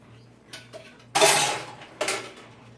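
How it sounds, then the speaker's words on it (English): Silverware washed by hand with a rag at a kitchen sink, producing a few sharp metallic clinks and clatters of spoons and cutlery against dishes, with a soft low hum in the background and quiet gaps between the clinks. "next thing I'm going to do is the silverware we put in here at the start of all this. I'm going to go ahead and start washing that real quick"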